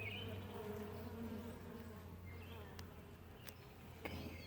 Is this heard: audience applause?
no